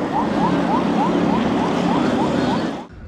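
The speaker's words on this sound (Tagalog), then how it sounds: "binasag ang katahimikan ng malakas na tunog ng sirena mula sa CCG vessel" A loud wailing siren from a Chinese Coast Guard vessel at sea repeats in steady rising sweeps, continuous and close, then cuts off abruptly near the end.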